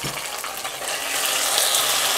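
Ground shallot and mango paste sizzles and spits in hot oil for a Kerala tuna curry, a steady broadband frying hiss that grows slightly louder and denser over the brief stretch, with no voices.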